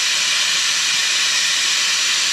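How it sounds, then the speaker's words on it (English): A handheld steamer hisses steam onto a damaged foam RC plane, a loud, constant, close hiss that holds unbroken from start to finish with no talking. "Some people swear by the steamer"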